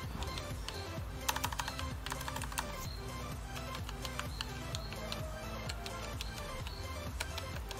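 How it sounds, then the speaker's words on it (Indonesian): Steady typing on a Keychron K1 V4 mechanical keyboard, with a dense run of crisp, close clicks and clacks in an irregular rhythm and no one talking. "Soalnya pengalaman pertama menggunakan keyboard mechanical, ternyata begini ya rasanya, nyaman dalam pengetikan."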